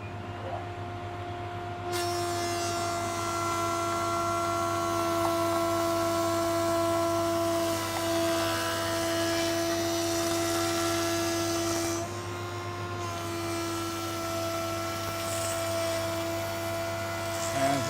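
A wood planer with a 260 mm wide head takes a 250 mm wide, 2 mm thick cut from a board. It gives a loud, steady high whine and drone that starts abruptly and runs continuously, with a slight dip near the end.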